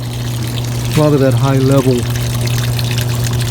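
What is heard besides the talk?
GIANTEX portable washing machine pump draining water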